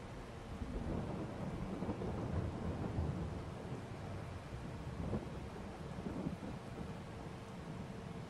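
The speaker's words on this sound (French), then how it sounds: "Puis avec l'orage là, c'est pas du plus agréable." Thunderstorm in the Farming Simulator 22 farming game, a steady loud wash of rain and wind with deep rolling thunder rumbles swelling throughout, no voices.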